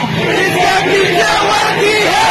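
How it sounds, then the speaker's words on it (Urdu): A protest rally crowd chants back in unison to a slogan, loud massed voices rising and falling in a rhythmic call-and-response shout that fills the whole stretch. "میں اپنی بات کا اختتام ایک نعرے سے کروں گی اور میں چاہتی ہوں کہ اس نعرے کا جواب GHQ تک سنا جائے"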